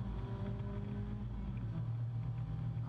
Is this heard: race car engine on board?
yes